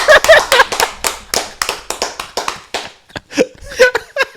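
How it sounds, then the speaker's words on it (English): A small group clapping for Ade on a football discussion show, a quick run of close, distinct hand claps with some laughter and voices mixed in toward the end. "let's give Ade a round of applause"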